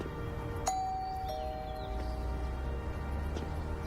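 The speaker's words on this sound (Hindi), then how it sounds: "डोरबेल बजाओ।" A two-tone doorbell chime rings once, sustained tones fading over a low background hum.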